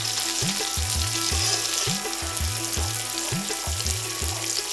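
Hilsa fish fries in oil in a village kitchen, a continuous close sizzle with a regular rhythmic clatter or scraping repeating throughout, no talking.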